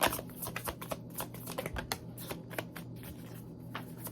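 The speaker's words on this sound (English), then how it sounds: "I love these cards because they shuffle fucking amazingly" A deck of tarot cards is shuffled up close, a dense run of quick riffling flicks and soft slaps in an uneven rhythm, with no talking.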